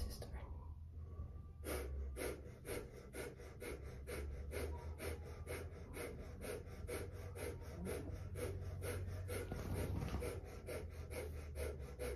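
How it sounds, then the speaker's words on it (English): Breath of fire in a yoga class: a fast, regular train of forceful, sharp nasal exhales, close and steady for the whole stretch, pumping at roughly two or three per second. "We're gonna do the breath of fire. We do that by pushing our belly button towards the spine, quick and hard."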